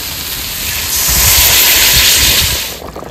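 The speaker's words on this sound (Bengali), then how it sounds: "এবার জল দিয়ে দেবো।" Water poured into a hot pan of fried spices and potatoes hits with a loud, broad sizzling hiss that swells for about two seconds, then drops away into softer bubbling crackle.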